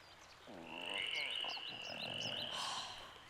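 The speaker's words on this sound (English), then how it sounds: "every time you hear a badger frog croak" A badger frog from an animated series croaks in a throaty, warbling call, mixed with other cartoon sound effects and a high whistling tone at moderate, fairly quiet level.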